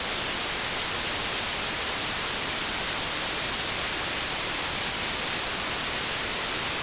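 Steady, unbroken hiss of broadband white noise, loud and constant from start to finish, with no other sounds.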